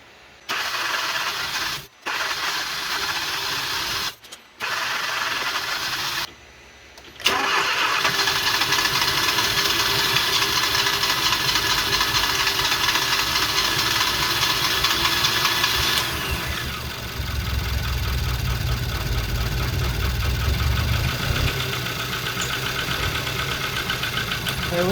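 A car engine with an oil-burning problem, treated with B12 Chemtool, cranks in several short bursts with brief gaps between them before it fires. It then settles into a loud, rough, uneven run that shifts in tone partway through.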